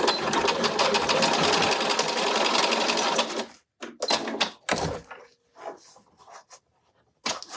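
A sewing machine stitching a fabric pouch runs in a loud, fast, steady whir for about three and a half seconds, then stops, followed by quieter handling clicks and scattered short knocks.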